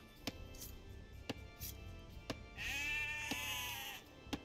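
Sheep in Age of Empires 2 Definitive Edition bleat once in a clear, wavering call near the middle, set among sharp, evenly spaced chopping knocks that repeat about once a second at moderate volume.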